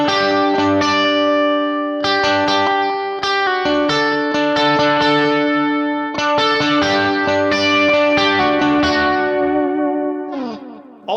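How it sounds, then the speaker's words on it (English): An electric guitar played through a Kemper profiler with its pitch shifter set as a micro pitch chorus in front, giving shimmering, slightly detuned sustained chords and arpeggios with some distortion and echo, heard alone. "So I took the Kemper's pitch shifter and placed it in front, and here's how it sounds by itself."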